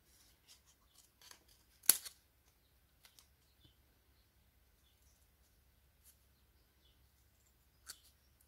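Scissors cutting out thick paper for a scrapbook page, a sparse series of quiet snips and small clicks at close range, one sharper cut standing out, with long near-silent gaps between.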